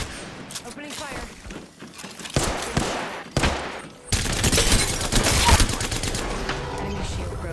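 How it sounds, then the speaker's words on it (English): Video game gunfire, repeated bursts of close shots with impacts and thuds building into a dense, loud barrage, with voices talking over parts of it. "Opening fire."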